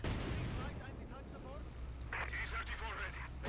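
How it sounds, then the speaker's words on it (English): A mortar fires repeatedly in the Company of Heroes 2 strategy game, with muffled thumps and distant battle noise sitting beneath steady commentary. "Mortar keeps firing away there"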